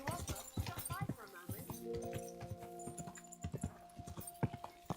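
Horse hooves clip-clop in Kingdom Come: Deliverance II, a steady run of close, sharp strikes sounding under ongoing talk and game noise.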